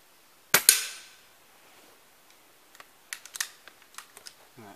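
A tuned BSA Ultra SE .177 air rifle fires, giving a sharp crack and a quick pellet whack on the target, followed by a scatter of faint, small mechanical clicks and taps.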